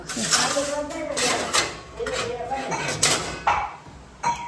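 Serving plates for dhokla clink and clatter against each other in a home kitchen, a run of repeated knocks and scrapes while people talk over them.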